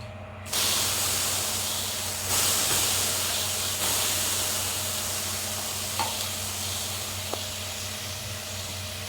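Water and dosa batter sizzle on a hot tawa (griddle), a steady bright frying hiss that starts abruptly, swells again a couple of times as more liquid hits the pan, with a faint low hum underneath and no talking.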